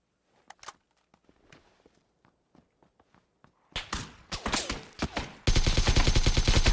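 Silenced AK rifle fire in the video game PUBG: soft scattered footsteps and faint thuds at first, then muffled shots building into rapid, loud, evenly spaced bursts of automatic fire.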